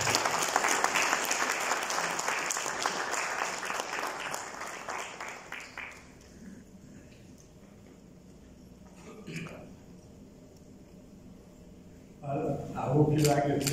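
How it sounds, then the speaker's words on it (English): Audience applause at a book launch for bird lover Narainsamy Ramen in Mauritius: dense, steady clapping for about six seconds that fades out, with a few scattered claps and crowd murmur, then a brief burst of renewed noise at the end. "I think I should give him a big applause."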